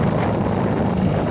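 Wind rushes over Lake Zakuryarvi, a steady, loud, blustery roar buffeting the microphone with no pauses.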